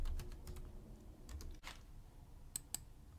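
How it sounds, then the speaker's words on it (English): Typing on a computer keyboard, quiet close key clicks in short irregular bursts with brief pauses between them. "Now I can type here."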